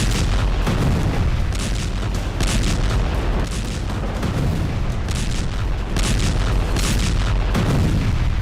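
Heavy continuous booming and rumbling of blasts, as near a nuclear site in Isfahan, loud and dense throughout with dull repeated impacts and no clear gaps.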